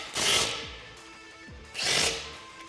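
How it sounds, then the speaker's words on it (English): A 17mm socket and wrench work bolts on a Jeep Wrangler JL rear bumper, giving two bursts of ratcheting metal turns separated by a short pause, close and fairly loud, with no talk. "We can tighten these up with a 17mm socket and wrench."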